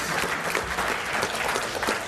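An audience claps at an AA speaker meeting, a steady, dense patter of many hands throughout, loud and close with no talking.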